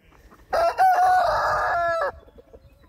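A rooster crows once, loud and close, one long strained call in a quiet setting with faint clucking around it, on a homestead hatchery.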